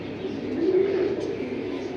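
Pigeons coo in a soft, low, rolling burble at a pigeon seller's, where female birds are shown for sale; the cooing is close and continuous with faint background noise.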